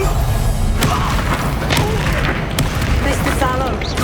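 Confringo blasting spells explode in the Hogwarts Legacy video game, heard as loud, booming blasts with sharp cracks, set against a dense, continuous battle din.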